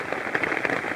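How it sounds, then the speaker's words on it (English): Torrential rain drumming on a tarp over a hammock at a woodland wild camp, a dense close patter with no voices. "it's basically been torrential rain all day or all morning"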